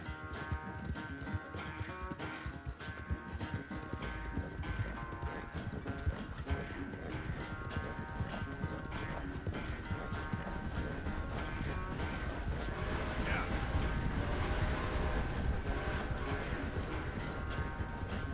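Steady clip-clop of galloping hooves in Red Dead Redemption 2 runs throughout, close and rhythmic, with a horse whinnying briefly over a constant bed of game music and effects.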